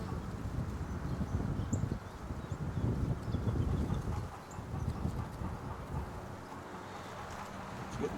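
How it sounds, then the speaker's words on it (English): Gusty wind buffets the microphone outdoors on a spring day near flowering red maples, a steady broadband rush that swells and dips, loud and close throughout with no talk. "It's getting so windy now"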